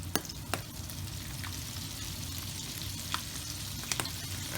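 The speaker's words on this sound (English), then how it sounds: "Okay, so it's time for us to fry this now." Salt and pepper squid pieces in a fryer basket sizzle and crackle steadily in hot oil, with a few sharp clinks and pops scattered over the continuous frying hiss.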